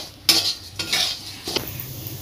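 Quiet scraping and stirring of broken wheat dry-roasting in a pan over medium heat, a few distinct scrapes of a spoon against metal with soft grainy rustling between.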